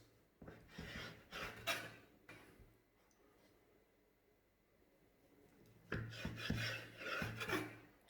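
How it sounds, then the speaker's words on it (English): A knife trims the crust edges off soft sandwich bread for Italian tramezzini, making close, raspy sawing strokes in two bursts with a quiet pause between them. "Grab your knife and cut the edges."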